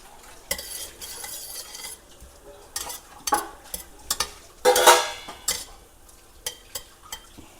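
Mutton marag in a pot is stirred with irregular metal scrapes and clinks of a spoon against the pot over a faint sizzle, including one louder burst of scraping.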